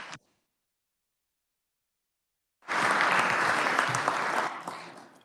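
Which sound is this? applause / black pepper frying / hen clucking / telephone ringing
applause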